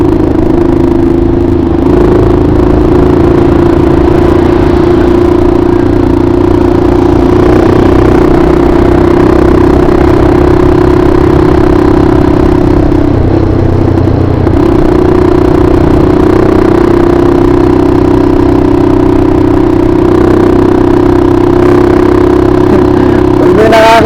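An engine idles steadily and loudly through an exhaust pipe without a silencer, a constant rough hum with a clattering texture that runs the whole time.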